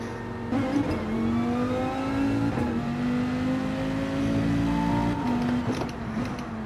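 A Dodge SRT Viper Group 3 race car in a video game lapping Daytona, its engine holding a loud, steady tone with rising revs and a few sharp shifts, heard alone without talk.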